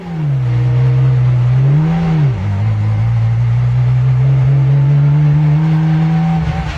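A homemade car being driven, its engine a loud, close drone that dips and rises once in pitch before holding a steady tone.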